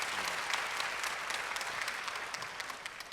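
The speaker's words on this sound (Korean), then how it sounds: "박수 한번" Audience at a spiritual diary conference clapping, a dense, even patter of many hands heard somewhat distant and fairly quiet, with no talk over it for a few seconds.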